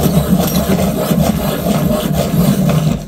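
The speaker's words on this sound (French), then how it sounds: "Donc je vais le tailler, mais pas du tout avec le même taille crayon." A hand pencil sharpener grinds a colored pencil, a steady close scraping rasp that continues without pause throughout.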